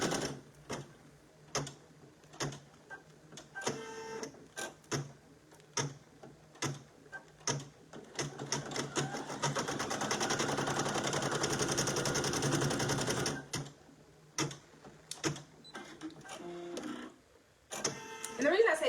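A Brother PE800 embroidery machine stitches a satin stitch in a steady mechanical run of fast ticking and whirring for several seconds, framed by sporadic clicks and nearby talk before and after.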